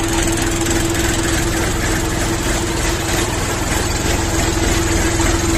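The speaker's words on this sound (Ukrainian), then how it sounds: "І тепер чуєте, як працює двигун КМ385" A small KM385 diesel engine on an Orion 24 hp mini tractor idles steadily and continuously up close, a constant rumbling chug with a strong steady hum throughout.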